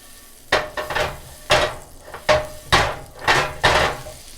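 Two tablespoons of butter swirled in a smoking-hot cast iron skillet, giving a series of about seven loud, evenly spaced sizzling, scraping bursts, close up and with no voices.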